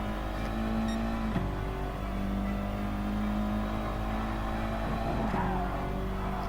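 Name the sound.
car racing in video game Gran Turismo Sport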